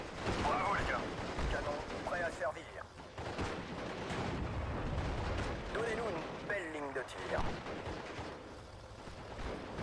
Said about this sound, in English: Let's bomb them again.